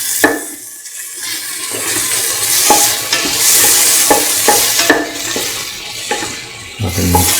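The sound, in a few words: onions sauteing and being stirred in a pan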